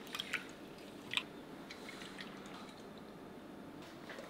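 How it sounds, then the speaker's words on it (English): Dried lentils are rinsed by hand in a pot of water, giving soft, faint splashes and wet swishing with a couple of brief drips early on, quiet and close with no talking. "let's wash and rinse them a few times till the water doesn't turn too blurry anymore"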